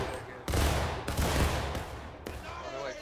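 Musket fire in the Civil War game War of Rights, with several loud overlapping gunshot bursts crackling in quick irregular succession amid a booming battlefield din and a nearby voice.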